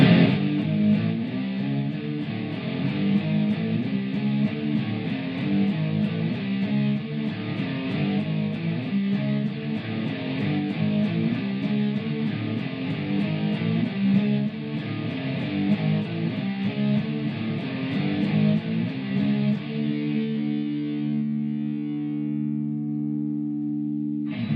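A heavy, distorted electric guitar riff in drop D chugs in a steady low pattern, loud and alone, ending on a sustained ringing chord.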